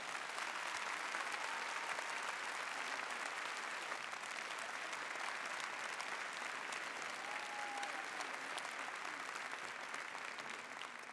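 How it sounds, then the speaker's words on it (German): An audience at a dance gala applauds warmly in a hall, with dense, steady clapping that carries on for the full length, fairly distant and even in loudness. "Einen herzlichen Applaus und einen ganz herzlichen Dank für die tolle Organisation."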